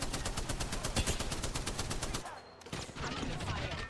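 Rapid automatic gunfire in a first-person shooter game, a steady burst of sharp, evenly spaced shots that runs loud for about two and a half seconds, breaks off briefly, then gives way to scattered clatter and fainter game noise.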